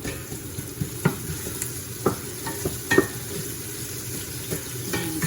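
Garlic frying in a pan for Cambodian beef with lime sauce: a steady close sizzle with sharp spatula scrapes and taps against the pan at irregular intervals.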